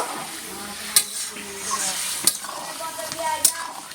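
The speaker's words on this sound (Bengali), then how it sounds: "মশলাটা তৈরি হয়ে গেছে, ফেলে দিলাম, দিয়ে একটু নাড়াচাড়া করে নেব" Frying spiced meat masala being stirred in a pan with a metal utensil, a steady sizzle beneath three sharp scraping clinks spaced about a second apart, close and clear.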